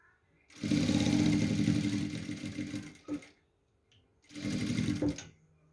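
A sewing machine stitches a second ribbon onto a skirt in two loud, steady runs, a long burst and then a shorter one, separated by a brief pause with a small clack.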